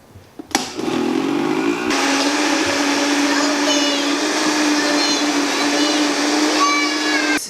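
A Vitamix blender purees tomato and onion with a loud, close motor roar that starts abruptly, shifts pitch as the blades catch, then settles into a steady whine for several seconds.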